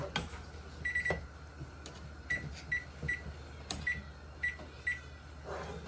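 A kitchen timer is being set while strawberry jam cooks, giving a series of short, evenly spaced electronic beeps, about eight of them, over a faint background hum.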